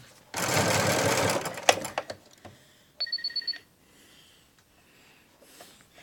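A Bernina Artista 200 sewing machine stitches in a fast, close burst of rapid needle whirring, followed by a few soft clicks and a brief electronic beep in a quiet room.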